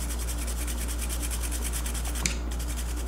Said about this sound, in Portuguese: Vou passar a famosa escova de dente